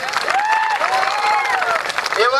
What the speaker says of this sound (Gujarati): એમનું આપણે તાળીઓના ગણગણાટથી એમનું આપણે સ્વાગત કરી લઈએ